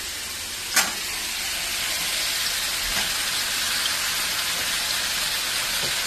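Soaked, cut brinjal pieces hit a pan of sautéed tomatoes and sizzle hard, a loud, dense, continuous frying hiss with a sharp clatter early on and faint scrapes.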